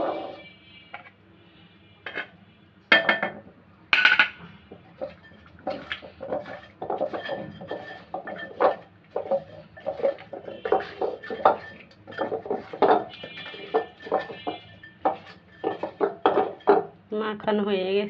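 Fish is mixed by hand with salt, chili and turmeric powder in a bowl, giving intermittent close squelches and light clatters, with a voice speaking at times.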